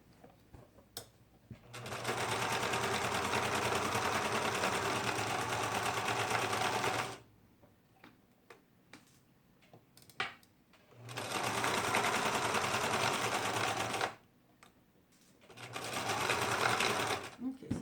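A sewing machine stitches down the length of a cloak toward the bottom hem, running in three long steady bursts of rapid whirring with quiet pauses between, while a voice talks in the gaps.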